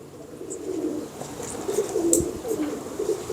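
A pigeon coos in low, soft repeated phrases close by, over light background hiss and faint chirps.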